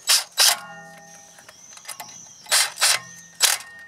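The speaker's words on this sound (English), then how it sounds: "Put the locating screws back into place." Short bursts of metallic clicking and rasping as a tool drives T30 Torx locating screws into the rear left brake disc of a Citroen Xsara Picasso, a few close strokes separated by quiet pauses.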